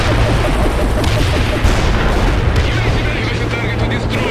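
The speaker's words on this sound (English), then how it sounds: "Bombing run is on the way." Heavy bombardment from a called-in bombing run in World in Conflict, a dense, continuous roar of overlapping explosions and rumbling booms, loud and sustained with no pauses.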